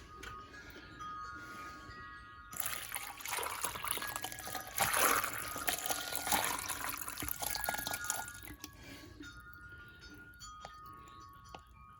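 Water being poured into a homemade planter that wicks it out to other containers: a steady splashing pour surges for several seconds, then eases into softer trickling and drips, close and alone with no talking.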